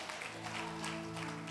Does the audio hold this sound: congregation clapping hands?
yes